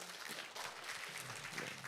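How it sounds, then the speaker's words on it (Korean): Church congregation clapping at a Wednesday worship service to welcome the visiting pastor, a brief, soft wash of applause in a reverberant hall. "박수로 환영해 주시면 감사하겠습니다."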